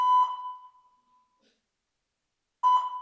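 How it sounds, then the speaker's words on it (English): A fire alarm sounds during a live panel discussion, a loud electronic tone that rings, trails off into silence, then starts again with a second burst, with no talk over it. "I think that's a fire alarm."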